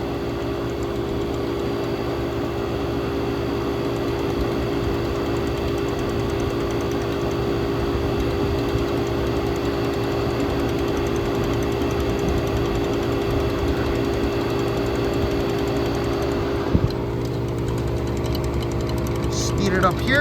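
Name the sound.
air conditioner running, compressor side, on a hot day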